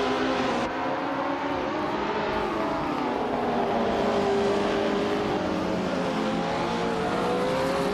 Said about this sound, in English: The Hyper 7 has shot off the line to take the lead.